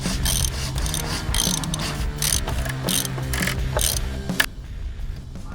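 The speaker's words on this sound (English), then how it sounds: "now we can go ahead and tighten the new oil filter back up to where we took it out from" A ratchet wrench clicks rapidly and steadily while tightening a new oil filter back into place on a car, close and clear, in quick repeated bursts before stopping near the end.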